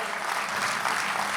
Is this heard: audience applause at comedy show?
yes